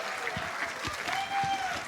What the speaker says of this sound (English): A round of applause for Middlecott.